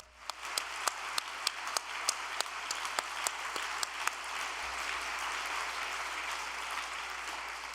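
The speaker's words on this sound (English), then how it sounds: "My brothers and sisters, please give a big round of applause to them" Audience applause at a religious gathering, opening with a few sharp distinct claps and quickly swelling into a steady, sustained wash of clapping from a large crowd that holds evenly to the end, with no talking.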